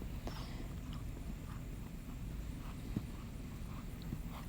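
Hooves of a horse being schooled in dressage on an arena surface, a soft steady footfall rhythm beneath a constant broad background noise, with a few sharper thuds standing out.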